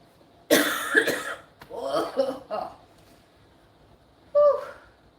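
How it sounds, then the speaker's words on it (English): A person talks, then after a pause gives one short cough nearby. "It's my nose that makes me cough."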